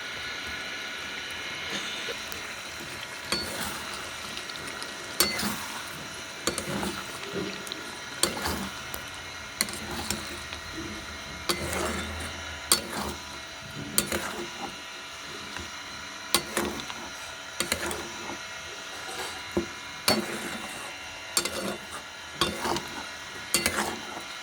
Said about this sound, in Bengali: এইভাবে আমরা এটাকে কষে নেব কিছুক্ষণ।